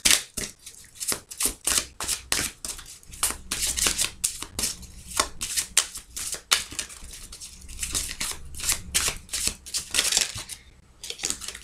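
Oracle cards shuffled by hand in a steady run of crisp riffling snaps, close and fairly loud, repeating without pause and with no voices.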